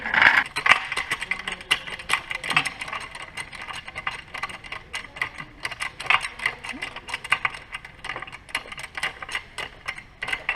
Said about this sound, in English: got on this sweet little Harbor Freight ATV jack